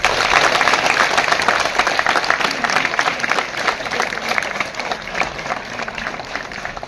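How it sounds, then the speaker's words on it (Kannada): A crowd gathered for a college results celebration claps loudly for students, a dense, continuous burst of applause that stays strong throughout and eases slightly near the end. "ಎಲ್ಲರಿಗೂ ಜೋರಾಗಿ ಒಂದು ಚಪ್ಪಾಳೆ"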